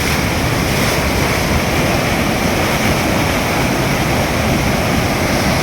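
Machchhu river in heavy flood after rain near Morbi, a steady loud roar of rushing floodwater filling the whole span with dense broadband rumble and hiss, close by with no voices.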